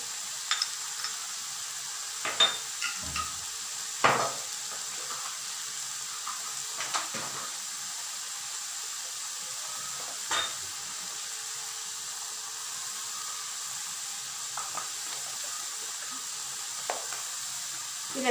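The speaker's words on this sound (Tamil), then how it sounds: "இதில் நான் என்ன ஆட் பண்ணேன்னா, ரெட் சில்லி சாஸும் நார்மல் கிசான் சாஸும் தான் ஆட் பண்ணியிருக்கேன். நல்லா ஃப்ரை ஆயிடுச்சு நூடுல்ஸு." Noodles fry with red chilli sauce and Kissan sauce, a soft continuous sizzle running throughout while scattered spatula scrapes and clinks against the pan come at intervals, close and fairly quiet, with no voices.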